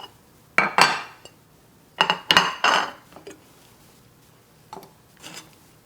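Sliced ingredients for yogurt-marinated lari kabob are tipped into a kitchen container, giving several short clattering bursts of dish and utensil clinks and scrapes with quiet gaps between them, close by and with no talking.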